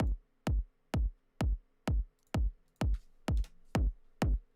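A dry techno kick drum sample with no effects hits about ten times at a steady, even pace, each thump short, punchy and up close, with nothing else playing.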